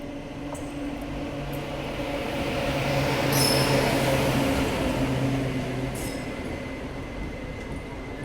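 An express train on the Purna line rolls into a station, a steady low rumble of wagons with a rising and fading rush of wheels on rail, brief high squeals, and a sustained engine tone running underneath.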